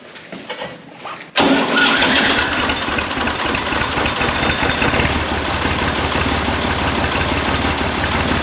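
A Massey Ferguson 235 tractor engine cranks and catches with a sudden loud roar after a quiet start, then settles into a steady, rumbling idle close by.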